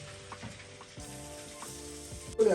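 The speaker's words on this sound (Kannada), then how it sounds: "ಇವಾಗ ಏನಿದೆ ಇದನ್ನ ಕ್ಲೀನಾಗಿ ಫ್ರೈ ಮಾಡ್ಕೋಬೇಕಷ್ಟೇ" Jackfruit for carnitas tacos fries in a pan, a soft, steady sizzle with faint stirring clicks and a louder clatter at the end.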